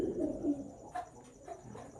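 Breeder pigeons coo softly in a loft, a few low, faint calls over quiet background noise.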